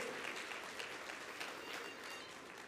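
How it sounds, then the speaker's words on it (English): An audience at a convention opening ceremony gives a steady round of applause, many hands clapping together in a dense, even wash that carries on throughout without a break. "they definitely deserve a round of applause"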